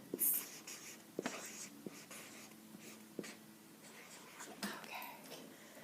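Pen or pencil scratching out a long word on paper, short strokes and taps in an uneven rhythm, close and quiet, with faint breathy murmurs around it.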